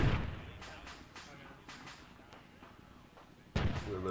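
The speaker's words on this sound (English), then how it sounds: "Getting some mortars close." Mortar fire in the video game Arma 3 booms heavily at the start and again near the end, with several duller, more distant thuds in between.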